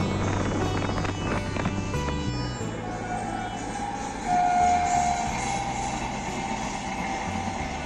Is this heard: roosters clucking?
no